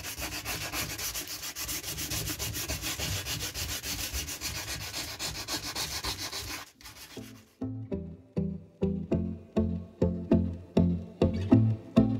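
Terrazzo and epoxy resin bud vase being dry-sanded by hand, a continuous close rasping rub that shifts into distinct rhythmic back-and-forth strokes.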